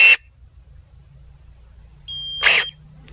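Electronic beep from electric pruning shears, a short tone near the start and another sustained tone later, with faint mechanical hum between.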